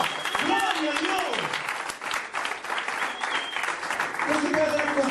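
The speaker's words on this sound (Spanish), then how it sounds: "Un aplauso a Jesucristo." A church congregation applauds Jesus Christ during a sermon, a spread of clapping under shouted voices and what sounds like music, with talk running over the top throughout.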